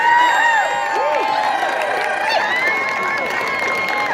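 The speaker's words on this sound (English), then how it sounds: "one round of applause for all 3 finalists" An audience at a New Orleans Entrepreneur Week pitch competition cheers for three finalists, loud whoops and high shouts rising over a bed of crowd noise and clapping.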